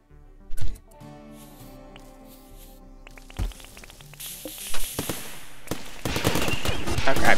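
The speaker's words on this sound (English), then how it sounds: "Garland has a light machine gun. Let's see how that works." A light machine gun fires in RimWorld, starting with scattered single shots and building into sustained bursts that grow louder and denser toward the end.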